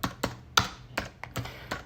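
Close, crisp keystrokes on a computer keyboard as a traceroute command is typed in a lab, about eight distinct taps at an uneven, quick rhythm with brief gaps.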